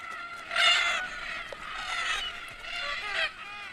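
Red-tailed black cockatoos gather at an Australian watering hole at evening, giving loud, harsh, repeated calls that overlap in several bursts with short pauses between.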